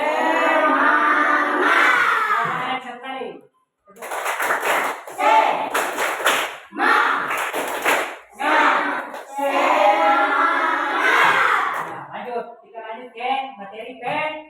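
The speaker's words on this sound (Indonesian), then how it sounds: "Silakan berdiri, kita tepuk semangat" Classroom students stand and perform a rhythmic spirit clap, groups of sharp hand claps in patterned bursts alternating with shouted chanting voices, loud and close.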